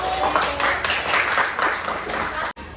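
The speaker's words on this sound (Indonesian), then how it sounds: "Tepuk tangannya dulu" A classroom audience claps for a student, a short burst of dense, even applause lasting a couple of seconds and ending abruptly.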